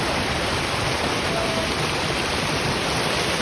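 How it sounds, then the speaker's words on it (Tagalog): Steady broadband rush of a strong waterfall stream's current at Aw-Asin Falls in Sigay, Ilocos Sur, a dense continuous roar filling the whole moment with no breaks. "Tapos malakas ang agos."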